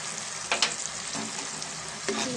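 Onions frying in a pan with salt and turmeric while cooking a spicy fish curry, a continuous close sizzle broken by a few sharp stirring scrapes.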